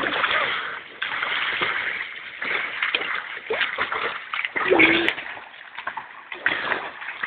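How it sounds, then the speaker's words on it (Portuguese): Water splashing from someone swimming, with continuous close sloshing and splatter that swells and fades irregularly, and voices heard faintly at times. "Tô nadando, vai lá."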